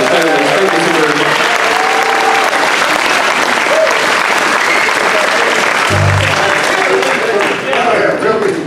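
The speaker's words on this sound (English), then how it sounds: "So give them a nice round of applause" An audience claps in loud, sustained applause that fills the space evenly, with a few voices and faint musical tones beneath the dense clapping.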